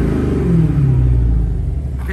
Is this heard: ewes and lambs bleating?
no